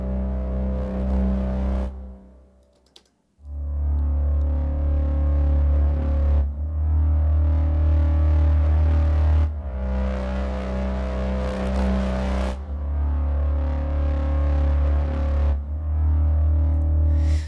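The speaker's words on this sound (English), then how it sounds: "as you sweep up, you get more of that distortion saturation" A loud, sustained synthesizer drone from Spitfire Audio Estatica repeatedly swells into brighter, gritty distortion and saturation as the dynamics sweep up, with a brief drop to near silence early on.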